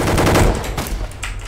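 Rapid gunfire bursts from a Roblox Gunfight Arena match crackle loudly and close in quick succession, with a brief lull before more shots.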